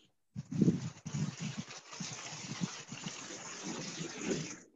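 A man's deep, slow breathing comes over a phone call as soft, rushing breaths that rise and fall like waves, faint and close, with no talking.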